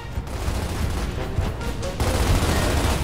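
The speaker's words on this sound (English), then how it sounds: "So they're shooting forward that way." Rapid gunfire rattles through a battle in the video game Gears of War, with dense bursts of automatic weapons fire and a louder burst near the end. There are no voices over the shooting.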